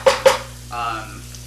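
Garlic and ginger fry in oil in a non-stick skillet, opening with two sharp utensil knocks against the pan, followed by a soft, close sizzle.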